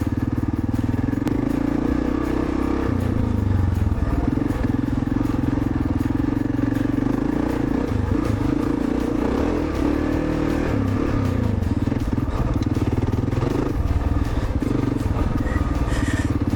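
A 2010 Kawasaki KLR650 motorcycle with the exhaust baffle fitted, riding along a track; a steady, continuous engine drone with low rumble and slight clatter, close and fairly loud throughout, no talking.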